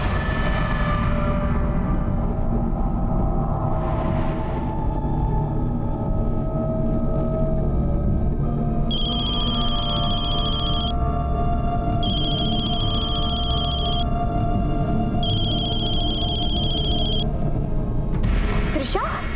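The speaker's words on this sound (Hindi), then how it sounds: "बेल तो जा रही है लेकिन फोन नहीं उठा रही है।" A telephone rings in repeated electronic bursts, left unanswered, over a low rumbling background.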